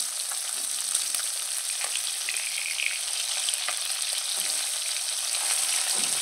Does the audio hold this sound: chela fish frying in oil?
yes